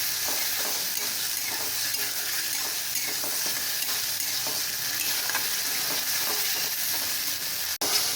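Onion paste and ginger-garlic paste fry in hot oil, producing a loud, dense, continuous sizzle with faint scraping from stirring, ending in a brief knock.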